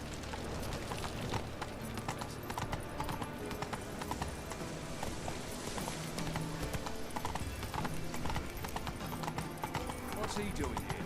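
Geralt's horse Roach walks in The Witcher 3 with a clear, rhythmic clip-clop of hooves, close up and continuous, over game sounds and occasional voices.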